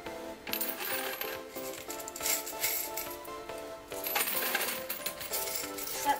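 Coins drop one after another into a cup hanging from a spaghetti bridge, a busy run of metallic clinks and jingles close by, continuing without speech.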